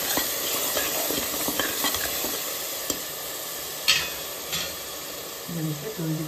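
Garam masala and salt are stirred in a pan, with a continuous steady hiss and soft scraping of a spoon, a couple of sharper clicks, and a brief murmur of voice near the end.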